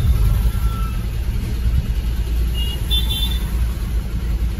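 Road traffic on a highway bypass near Kalyan, with a steady close rumble of car and vehicle engines and a few short, high horn toots sounding midway through.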